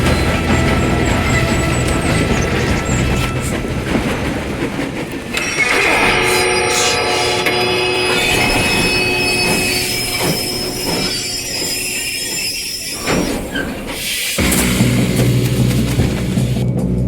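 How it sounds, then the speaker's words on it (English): A moving train rumbles along in Red Dead Redemption 2, its wheels squealing and clacking on the rails with a steady loud roar, metallic screeches, and a horn-like tone partway through. "We have to stop this train."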